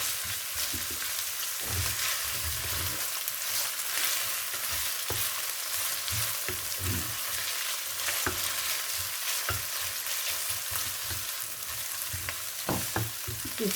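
Meat pie filling is stirred in a frying pan, with a steady sizzle and repeated scraping spatula strokes close up and no talking.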